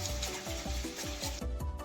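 Potatoes fry in a pan with rice poured in, a continuous close sizzle broken by a regular series of scraping, rubbing stirs.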